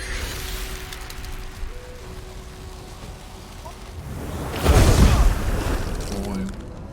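Explosion in the fantasy role-playing game Divinity: Original Sin, a sudden loud boom with a rumbling tail that rises out of quieter battle ambience partway through.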